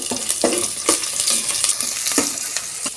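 Chopped shallots and green chillies fry in hot oil with a loud, steady sizzle, and a utensil stirs them in regular scraping strokes close to the pan.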